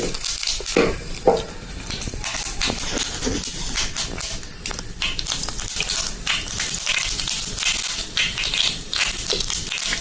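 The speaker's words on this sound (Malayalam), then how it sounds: "ഇത് നമ്മളെ കടുക് അത്യാവശ്യം പൊട്ടി തുടങ്ങിയിട്ടുണ്ട്." Dense crackling and spattering of mustard seeds popping in hot oil, a steady busy sizzle with sharp pops throughout, close by and fairly loud.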